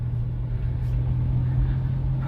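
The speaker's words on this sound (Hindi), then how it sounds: "ये थर्ड गियर में हमारी गाड़ी चल रही है" A car driving steadily in third gear during a driving lesson, with a continuous low engine drone and road rumble, no talking.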